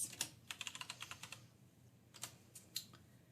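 Quiet keystrokes come from a computer keyboard, a quick burst of clicks followed by a pause and then a few scattered taps, close but soft with no voices.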